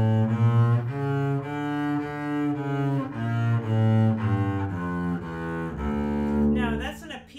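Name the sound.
bass playing D harmonic minor scale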